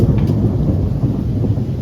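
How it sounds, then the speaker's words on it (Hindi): Thunderstorm with heavy rain during a night downpour, a steady low rumble and dense rain hiss running throughout with no voices. "बादल देख रहे हो कितने गरज रहे हैं, बरस रहे हैं"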